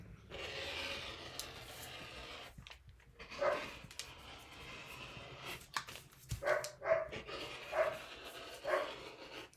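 Dogs bark indoors at home in short, scattered yips, some close and sharp, mixed with rubbing and scraping handling noises and quieter gaps between bursts.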